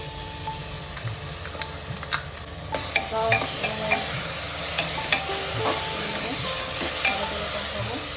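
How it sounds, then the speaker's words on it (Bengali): Onion and spice paste with chilli, garlic and ginger sizzles as it is stirred for mutton curry, a steady frying hiss with scattered clicks and scrapes of the spoon, getting a bit louder partway through. "ভালোভাবে পেঁয়াজটা মশলাটা ভালোভাবে কষাতে হবে"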